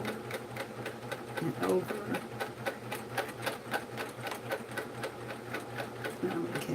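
A sewing machine runs steadily while stitching a quilt, its fast, even needle pulses close and loud throughout, with a person talking briefly over it.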